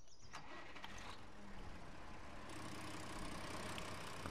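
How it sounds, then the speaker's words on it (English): A tractor engine starts in the Farming Simulator 19 game, a grinding crank that catches into a steady mid-pitched idle rumble, loud and close, with no talk. "get in your tractor here"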